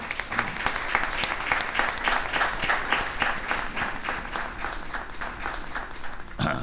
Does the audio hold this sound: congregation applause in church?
yes